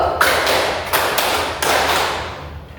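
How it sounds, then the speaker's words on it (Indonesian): A classroom of children clapping the 'tepuk semangat satu' spirit clap, a few sharp rhythmic claps close by over a roomy echo. "Coba lagi, tepuk semangat satu"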